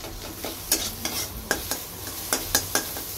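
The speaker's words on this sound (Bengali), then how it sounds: "তারই মশলাটা কষাচ্ছি" Spice paste (masala for an egg curry with potato and cauliflower) being sautéed in a pan, with a soft sizzle and sharp, irregular spoon strokes scraping and tapping the pan, close by.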